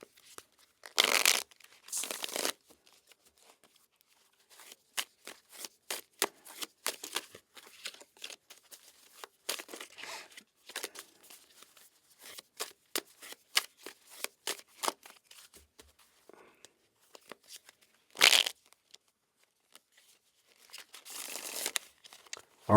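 A tarot deck being shuffled and cut, with bursts of riffling card flutter and soft slaps repeated in irregular rhythm, close and fairly quiet, no talking.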